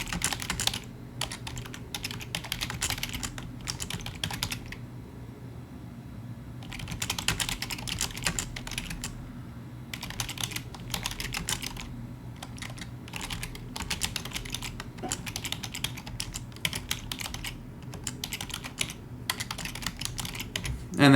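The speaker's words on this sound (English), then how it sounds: "Okay, we're just going to type for a second." Rapid typing on a computer keyboard, with bursts of clattering keystrokes separated by short pauses, close and fairly steady over a low background hum.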